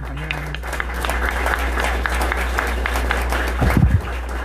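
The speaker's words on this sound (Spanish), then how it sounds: "Un aplauso para la compañera." Audience applause at a professionals' forum, clapping spread across the room under a constant low hum, with a brief burst of voices near the end.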